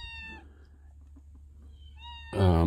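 A house cat meows several times nearby, drawn-out tonal cries with pauses between, the last one louder and harsher, alone without talk.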